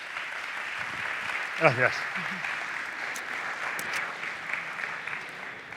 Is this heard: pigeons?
no